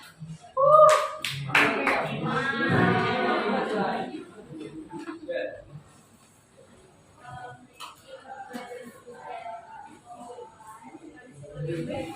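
Students in a high school classroom in Pekanbaru clap for a classmate, a loud burst of hand claps that lasts a few seconds and then gives way to quiet chatter and light shuffling.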